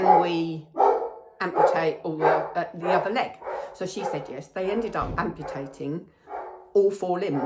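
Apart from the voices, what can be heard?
dog barking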